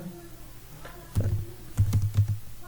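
A computer keyboard is tapped a few times in quick, close keystrokes, including a book ID number and the enter key, over a faint background hum.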